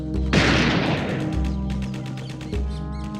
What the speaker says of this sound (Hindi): यहाँ गोलियां चल रही हैं